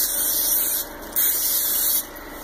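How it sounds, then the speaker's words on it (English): Cooking butter spray hissing steadily from an aerosol can in two long bursts with a brief pause between, close and fairly loud. "Then spray the butter on."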